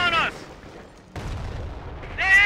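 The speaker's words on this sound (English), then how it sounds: "Enemy troops are firing on us!" Bursts of gunfire in a Company of Heroes battle during a World War II city siege at the Falaise pocket, a rough broadband clatter filling the middle stretch, with game voice callouts speaking at the start and end.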